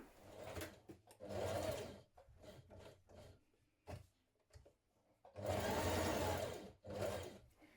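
A sewing machine runs in bursts as it stitches a shirt seam. Two long loud runs are separated by quieter stretches of short stitching and handling noises.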